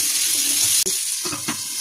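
Potatoes fry in oil in a wok with a loud, even sizzle, followed by a short break and then a few scraping stirs against the pan.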